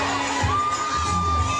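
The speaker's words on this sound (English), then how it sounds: "when he hears the applause from all of the staff and students" Staff and students at a school pep rally shouting and cheering together in a dense, steady crowd roar, loud and continuous with a faint whistle-like tone running through it.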